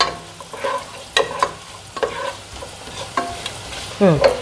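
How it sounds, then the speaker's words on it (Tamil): Fennel and cumin seeds crackle and sizzle in hot oil while a utensil stirs and scrapes the pan in irregular strokes, close and fairly loud. "இப்படி சோம்பு சீரகம் எல்லாத்தையும் பொரிய விட்டுடலாங்க."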